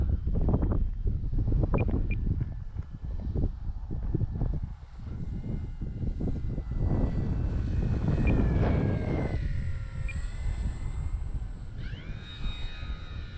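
An electric model warbird airplane on a Smart 3200 4S battery makes a landing approach in strong wind, its motor whine rising and falling in pitch over gusty, rumbling wind noise.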